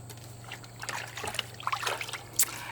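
A dipped object is pushed into and twisted through hydro dipping water, giving short trickling and sloshing splashes close by, with a brief brighter splash near the end.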